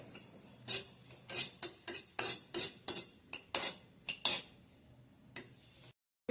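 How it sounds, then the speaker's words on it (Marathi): White sesame seeds dry roasting in a hot pan over medium gas, sharp scraping and clinking strokes of a metal spatula against the pan in an uneven series, close by, with a faint crackle between strokes. "ह्यात आपण तीळ सफेद घालून घेऊ आणि मीडियम गॅसवरती छान छान असं भाजून घेऊया"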